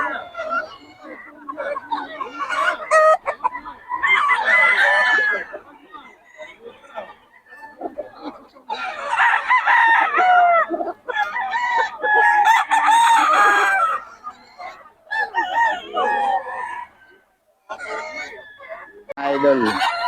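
Solid black henny gamecock rooster, about three and a half years old, crowing repeatedly with clucks in between, close and loud, while people chatter around it.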